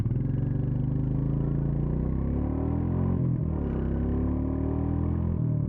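A Royal Enfield Meteor 350, a 20.6 horsepower single-cylinder motorcycle, pulls away from traffic lights with a steady, loud thumping engine note that rises through the revs, dropping briefly at a couple of gear changes.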